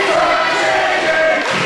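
A wrestling crowd cheers for Andrew Anderson with a steady, dense roar that fills the whole moment without letup. No one speaks over it.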